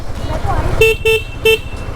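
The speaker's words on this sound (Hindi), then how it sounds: "और सबसे बेटर तो इसका हॉर्न है" A 2023 KTM RC 390 motorcycle horn beeps three short times over steady engine and road noise, close by.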